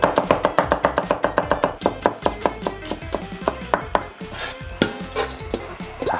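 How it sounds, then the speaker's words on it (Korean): A kitchen knife finely chopping green onions (daepa) on a cutting board in a military kitchen, fast rhythmic close knocks that briefly slow and then resume in irregular bursts. "오징어 젓갈에 들어간 대파는 아주 신경 써서 아주 잘게 칼을 많이 넣어줘야 돼"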